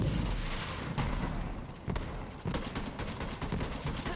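Gunfire in the video game Borderlands 3, a continuous dense rattle of shots with sharp repeated cracks layered over a busy combat background, loud and close throughout.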